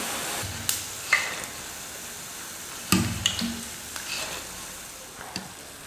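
Kara boondi batter drops frying in hot oil, giving a soft steady sizzle broken by a few sharp clinks and stirring knocks from a spoon against the pan.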